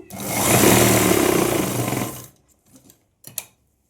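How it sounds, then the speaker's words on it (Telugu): A sewing machine stitches a pair of pants in one continuous loud, close run of rapid whirring and clatter for about two seconds, then stops, leaving a few faint clicks and a short knock. "ఇలా ఒక స్టిచ్చింగ్ అయితే వేస్తున్నాను"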